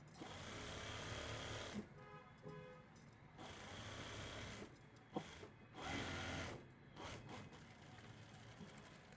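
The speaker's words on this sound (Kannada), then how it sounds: "ಈಗ ಇದನ್ನ ಈ ತರ ಇಟ್ಕೊಂಡು ಸ್ಟಿಚ್ ಹಾಕೊಂಡ್ಬಿಡೋಣ." Sewing machine stitching a sleeve onto a garment, its motor running in long steady bursts with a few short pauses and quick restarts, close and fairly loud with no talking.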